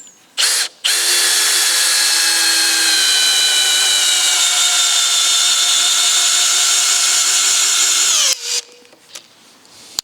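A power drill drives a long screw into the wood of a large barn door, one loud sustained whine lasting about eight seconds with its pitch shifting, followed by a few clunks.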